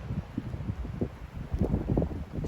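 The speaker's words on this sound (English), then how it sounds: "Windy, windy." Gusty wind buffeting a microphone outdoors among ferns, with an irregular low rumble rising and falling in strength and faint rustling, no talking.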